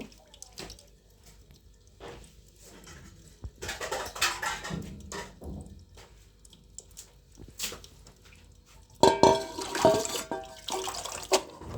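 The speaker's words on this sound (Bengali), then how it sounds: "ধুয়ে আরেকটা বলে উঠাই নিব" Cut potatoes being washed by hand in water in a kitchen: intermittent sloshing, splashing and dripping, close by, growing louder and busier toward the end, with no talking.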